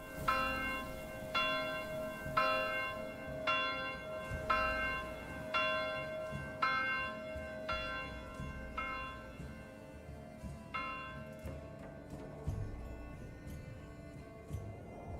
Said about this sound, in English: Well, the church bells didn't trigger them.